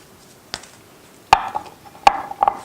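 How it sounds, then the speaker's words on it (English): Garlic coarsely chopped with a knife on a board: a light tap, then three or four sharp, distinct knife strikes with brief woody knocks between them, close and dry with no talk. "now the last thing left, to coarsely chop our garlic"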